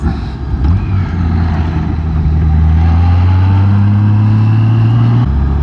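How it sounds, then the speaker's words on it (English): Traffic rolls past on Big Valley Road, a loud engine drone that climbs in pitch and holds before dropping off as the vehicle goes by, with steady road noise underneath. "Here comes some traffic."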